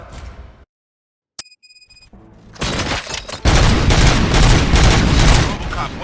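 Dense gunfire erupts in the RoboCop Rogue City video game: a brief quiet stretch with a faint ding, then sustained rapid, loud bursts of shooting that fill the last few seconds.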